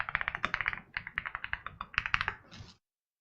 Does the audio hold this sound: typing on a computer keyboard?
yes